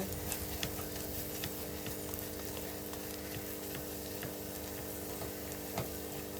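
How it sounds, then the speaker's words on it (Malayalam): Kashmiri chili powder and beef masala are stir-fried in a pan for beef curry, giving a steady, close sizzle with light scraping and stirring clicks throughout and no talk. "ഇനി നന്നായിട്ട് ഇളക്കി കൊടുത്ത് പൊടി മൂപ്പിച്ചെടുക്കാം"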